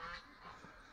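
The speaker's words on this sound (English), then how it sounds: "the ducks wasted no time going to the water" Ducks quack near water, a short nasal call burst at moderate distance, close in on a quiet outdoor morning.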